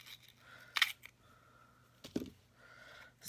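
Paper being peeled off a motivational planner: two short, crisp tearing bursts about a second apart, close and fairly quiet, with near silence between and no talking.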